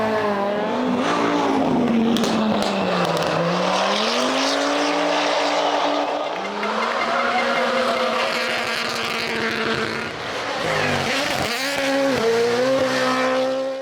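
Lancia rally car at a rally event near San Marino, a loud engine howl that rises and falls with gear changes as the car passes close by. No talk is heard.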